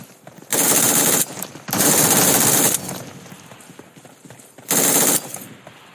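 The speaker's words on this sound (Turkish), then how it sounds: "Silah sesi geldi." Bursts of rapid automatic gunfire in PUBG Mobile crackle loudly in three sustained volleys, separated by brief lulls of quieter background noise.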